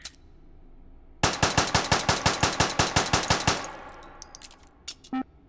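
Automatic gunfire in the VR shooter Hot Dogs, Horseshoes & Hand Grenades, a rapid burst of about twenty loud, evenly spaced shots, followed by a ringing tail and faint metallic clicks.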